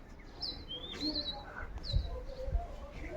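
Sparrows at a nest in a village chirp in short, faint, high tweets scattered across a few seconds, over quiet outdoor ambience with a couple of low thumps.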